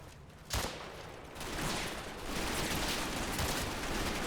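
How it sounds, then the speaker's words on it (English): Churchill tank laying down suppressive fire in the Combat Mission game's Operation Epsom battle, a dense continuous rattle of gunfire that swells after a sharp opening burst and carries on steadily, moderately loud, with no talking. "The Churchill starts to lay down suppressive fire on my right flank"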